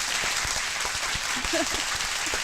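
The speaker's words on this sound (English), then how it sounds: "Round of applause for Lux Bidet back in our family" Broad steady applause fills the clip, a continuous wash of many hands clapping with a few faint voices mixed in.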